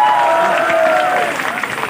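Audience at a political rally speech in Lucknow applauds and cheers in a short continuous burst, with a voice carrying over the crowd noise.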